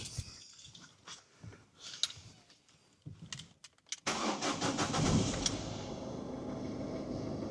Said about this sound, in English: flick the ignition on, give it a whirl.